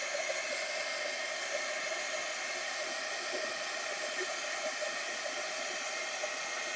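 A heat tool blows a constant, even hiss of hot air close up as it dries distress ink on a card, running unbroken for several seconds.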